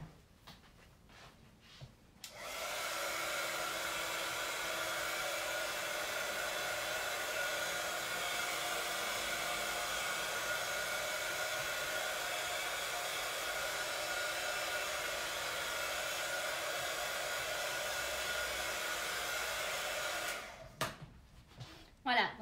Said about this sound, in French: je vais passer déjà un premier séchage juste sur les côtés